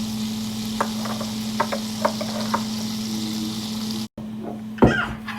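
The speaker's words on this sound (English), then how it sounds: "This is 4 tablespoons of butter. Let that melt and then add minced garlic or fresh garlic." Butter melting with minced garlic in a skillet over medium heat gives a steady, moderate sizzle with a few soft stirring clicks, then a brief drop and a louder scrape near the end; no talking.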